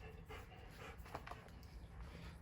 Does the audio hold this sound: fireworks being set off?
no